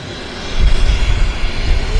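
A China Southern Cargo Boeing 777 jet at Vancouver Airport gives a steady broadband roar that swells after a quiet start and holds loud and close, with no talk.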